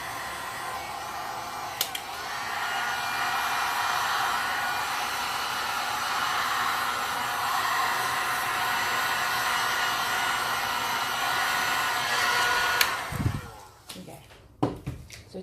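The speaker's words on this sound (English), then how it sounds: "I'm just gonna push it around a little bit more with my heat gun" A heat gun blows a steady, close, whooshing stream of hot air across poured resin art for about thirteen seconds, then cuts off, followed by brief clatters of tools.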